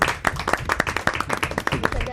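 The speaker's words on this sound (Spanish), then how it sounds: "Sí, se puede aplaudir." A small group claps in quick, uneven bursts, close and fairly loud, with a voice briefly mixed in.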